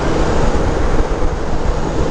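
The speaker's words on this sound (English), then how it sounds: "Damn, that's windy." Strong wind roars and buffets the microphone in a continuous low rumble on open, desolate terrain in Colorado. No voices are heard.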